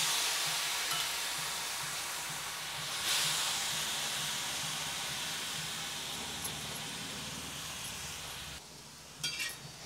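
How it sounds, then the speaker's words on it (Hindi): Bombay duck (bombil) dry fish roasting on a hot tawa gives a steady, even sizzling hiss throughout, ending with a few brief clinks. "अब इसे तवे पर थोड़ा सा हम भून लेंगे तो उसी तवे पर हम भून लेते क्योंकि तवा भी गर्म है"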